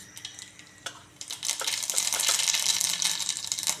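Mustard seeds drop into hot oil and burst into a loud, crackling sizzle that builds and stays busy with rapid pops, close up.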